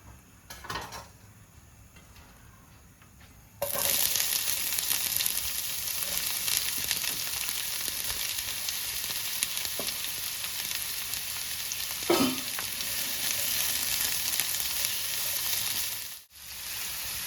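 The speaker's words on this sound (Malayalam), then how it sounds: "പാൻ ചൂടായി അതിലേക്ക് ഓയിൽ ഒഴിച്ചു കൊടുക്കുകയാണ്. ഇനി അതിലേക്ക് നമ്മൾ അരിഞ്ഞു വെച്ചിരിക്കുന്ന 3 സവാള അതിട്ട് കൊടുക്കാം." Three sliced onions drop into hot oil in a pan for an egg biryani, and a loud, sustained sizzle starts at once after a quiet opening and runs on, with an occasional utensil knock.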